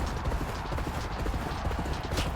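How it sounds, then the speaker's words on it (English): Galloping hooves in a horse racing video game, a steady rapid clip-clop drumming under dense game noise and crowd-like background. "We're driving this horse to the finish line."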